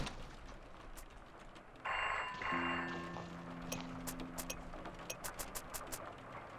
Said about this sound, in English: I heard a phone.